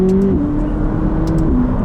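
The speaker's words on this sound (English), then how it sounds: "the way this car delivers power and the way the gearbox just flicks through the gears is perfect." A McLaren 570GT supercar accelerating hard, its engine note steady and loud up close, then dropping in pitch as the gearbox flicks to the next gear, with another quick shift near the end.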